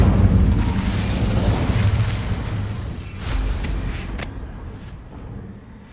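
An Incendio fire spell is cast in Hogwarts Legacy, a loud, rumbling burst that keeps roaring for several seconds, with a sharp flare partway through before it fades toward the end.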